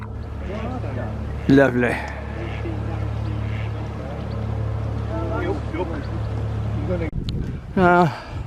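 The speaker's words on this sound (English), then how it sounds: "There's another boat coming along now." A boat engine drones steadily at a moderate distance as the boat passes along a canal, while a person speaks briefly a couple of times over it.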